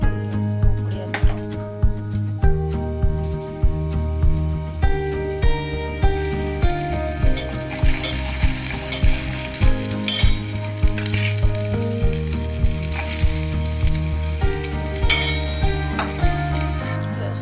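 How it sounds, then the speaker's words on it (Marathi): Jaggery and other ingredients bubbling in ghee, stirred with repeated scraping strokes against the pan over a continuous loud sizzle, up close, with no talking. "तूप टाकल्यावर हे सगळं साहित्य त्यामध्ये टाकून घ्यायचं उकळी आली"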